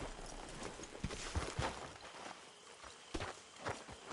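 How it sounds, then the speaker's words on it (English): Horse hooves clip-clop at a walking pace on hard ground in Red Dead Redemption 2, irregular thuds at moderate distance over a faint outdoor background. "Get that horse out of here."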